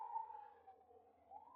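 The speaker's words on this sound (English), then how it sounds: "I don't know if you can hear the sirens" A faint, distant siren wails and slowly dips then rises in pitch, heard alone over a low background hum.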